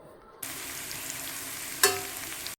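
Stuffed brinjals for kathirikkai chops sizzle steadily in a hot pan, with a soft, even hiss throughout and one brief clatter partway through.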